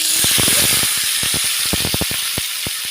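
Mixed fish hit hot oil tempered with black cumin, giving a constant bright sizzle and hiss under a run of sharp, irregular crackles and pops from the pan.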